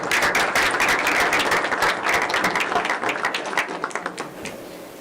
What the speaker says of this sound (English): let's give her a round of applause, guys